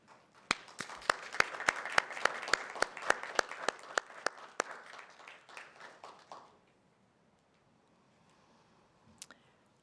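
Applause from an audience at a Veterans Day program as veterans stand, a roomful of hands clapping steadily for about six seconds with sharp individual claps standing out, then fading to near silence.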